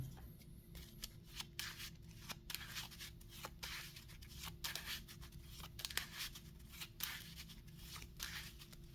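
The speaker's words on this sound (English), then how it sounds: "next we can shuffle the encounter deck." The encounter deck for the Arkham Horror card game being shuffled, a steady run of soft riffling and flicking sounds close by and fairly quiet, with no talk.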